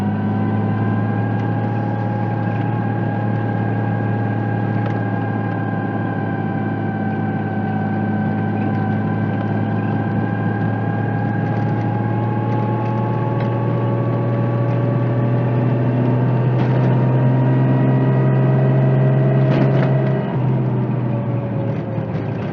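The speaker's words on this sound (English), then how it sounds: "like most bumps, you can hear stuff rattling over there" RB20DET-swapped Nissan S13 240SX heard from inside while driving, a steady loud engine drone with occasional rattles over bumps throughout.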